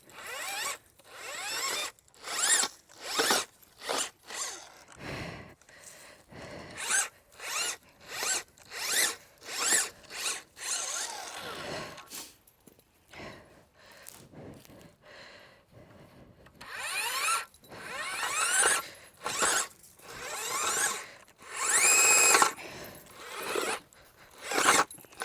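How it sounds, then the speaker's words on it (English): A garden auger bores holes in soil for planting fall bulbs, giving repeated rhythmic grinding, scraping bursts up close, with brief pauses between runs and no talking. "Let me get my auger."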